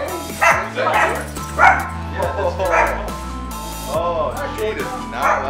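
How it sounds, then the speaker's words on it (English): Several dogs bark and yip close by in short, loud bursts, with some whimpering mixed in, while someone talks over them. "All right, fucking dogs."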